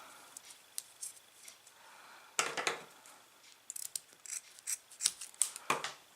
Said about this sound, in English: I'll just cut the other one.